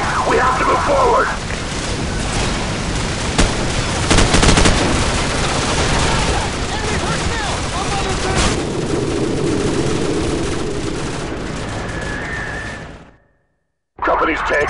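Sustained gunfire in the military video game Call of Duty 4: Modern Warfare rattles through a battle scene, with bursts and booms under shouting voices, ending in a brief silence.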